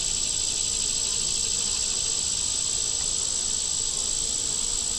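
Honey bees from an opened hive being worked with a smoker, a steady dense buzz and insect drone holding constant throughout, fairly close and loud with no talking.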